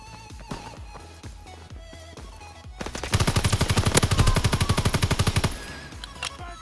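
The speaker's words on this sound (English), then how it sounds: "they're shooting me from below" Rapid automatic gunfire in a video game, a dense burst of repeated shots lasting a couple of seconds after softer intermittent game sounds and shots, loud and close.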